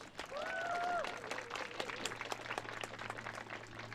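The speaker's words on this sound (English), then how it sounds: "Let's give a big round of applause for all these qualifying teams." Applause from spectators greeting the qualifying teams at a women's softball championship game, a steady wash of clapping with crowd noise and a low hum.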